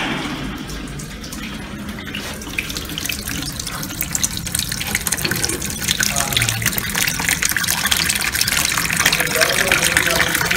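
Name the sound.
tap water filling toilet cistern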